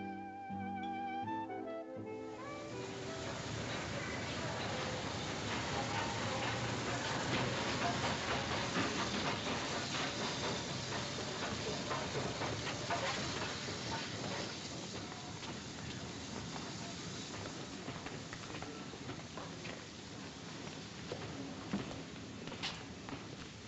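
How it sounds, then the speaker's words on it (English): A steam train departs a station, with a continuous loud hiss of escaping steam and rumbling carriages that swell and hold steady; a brief burst of orchestral music sounds at the very start. "He's leaving for Paris by the 8:15 train."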